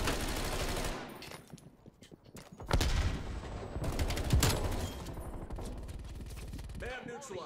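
Rapid automatic gunfire from the Call of Duty Cold War video game, loud, dense bursts of shots in several stretches with game effects between them.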